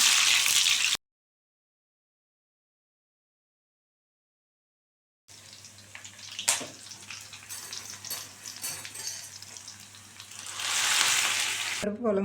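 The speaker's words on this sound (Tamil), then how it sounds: "கடாயை எடுத்து வச்சுட்டு எண்ணெய் ஊற்றிக்கலாம்." Hot oil for tempering a village-style dal curry crackles and sizzles in a pan after a stretch of silence, a close, steady frying hiss that swells louder toward the end.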